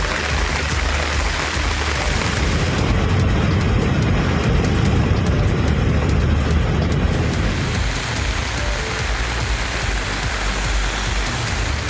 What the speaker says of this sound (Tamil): கிருஷ்ணகிரி மாவட்டம் ஓசூரில் 1 மணி நேரத்திற்கு மேலாக கனமழை வெளுத்து வாங்கியது